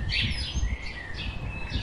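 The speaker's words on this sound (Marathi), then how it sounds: "फक्त पक्ष्यांचा आवाज येतो इथे आणि कोणी नाही आहे." Birds chirp and tweet in quick, scattered calls at Kattalekadu Viewpoint in Coorg in the morning, bright and moderately close over a soft outdoor hush, with no other sounds competing.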